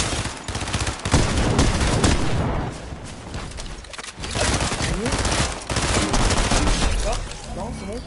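Sniper rifle shots and other gunfire in a PC video game fill the whole stretch with heavy, near bursts and booms, while voices talk underneath.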